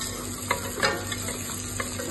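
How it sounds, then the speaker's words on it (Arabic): Onion sautés in oil for lentil soup, with a continuous hiss under several light scrapes and taps of a stirring utensil against the pot, close and unvoiced. "حطيت زيت، حطيت بصل، قطعوا كل شيء كبير عادي، بعدين بينخلط. شوحت البصل شي بسيط"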